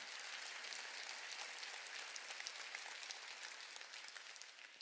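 A church congregation applauding during a sermon, a steady, fairly faint wash of many hands clapping with no talking over it.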